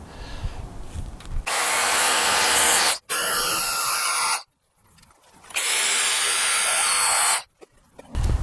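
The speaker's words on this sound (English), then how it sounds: "it's back to the hammer drill on an old bit and try to see if I can basically gouge this out." Hammer drill with an old bit gouging out brick mortar on a garage roof, three loud sustained bursts of grinding, rattling drilling separated by short pauses.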